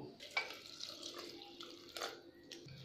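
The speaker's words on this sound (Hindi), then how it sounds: "इसमें पानी अभी कम लग रहा है तो हम इसमें एक गिलास पानी और डालेंगे" Water trickles and splashes steadily for a few seconds into a pressure cooker of chickpea greens, a soft pouring sound with faint clinks, no talking.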